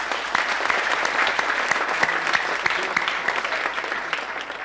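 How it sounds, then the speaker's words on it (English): Audience applauding at a Wikidata conference talk, a dense, steady wash of many hands clapping throughout with no voices over it. "Yes, applause."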